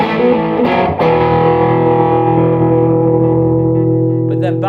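A heavily distorted electric guitar chord through a high-gain valve amp rings out loud and sustained, struck twice near the start and left to hang with a thick, saturated tone.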